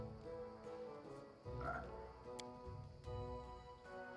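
Two frogs croak in Pathfinder: Kingmaker, low and steady over a game backdrop with a faint ticking that runs throughout.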